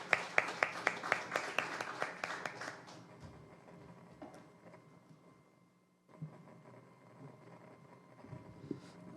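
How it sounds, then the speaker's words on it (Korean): A forum audience of young people in Ulsan claps to welcome a professor onstage, starting with a few seconds of loud, rhythmic unison clapping that quickly thins into scattered, fainter claps and quiet room noise. "여러분, 정진환 교수님을 다시 한번 큰 박수로 만나보겠습니다"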